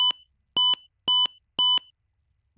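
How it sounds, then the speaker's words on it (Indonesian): An IoT prototype buzzer alarm on a smart eye-strain guard gives four evenly spaced, loud double beeps, each a short high pair of tones, with silence between them and a faint noise at the very end. "maka buzzernya akan bunyi seperti itu"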